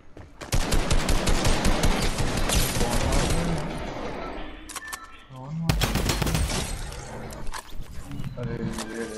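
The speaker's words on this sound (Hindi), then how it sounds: "भाई उसका गन है।" Sustained loud bursts of automatic gunfire in Fortnite Battle Royale squad mode, long rattling volleys that pause briefly and resume, with players talking over the shooting.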